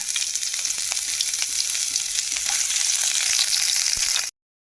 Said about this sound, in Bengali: পেঁয়াজ কুচিটা ভাজা ভাজা হয়ে গেছে